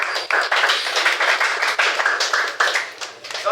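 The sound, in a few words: audience applause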